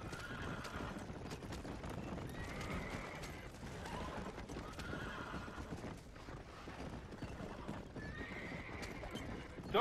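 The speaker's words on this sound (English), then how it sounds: "The horses are going like fucking crazy." Horses in a Red Dead Redemption 2 multiplayer game whinny and neigh in repeated high calls over a constant rumble of hooves and game noise, fairly quiet and steady throughout.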